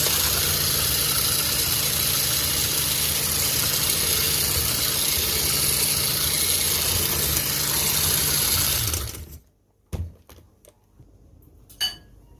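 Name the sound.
whisking eggs for sugar-free marshmallows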